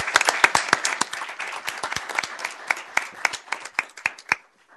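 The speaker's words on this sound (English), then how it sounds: "Let's give a round of applause." Scattered hand clapping from a small crowd at a city council regular meeting, distinct individual claps rippling for several seconds and thinning out toward the end.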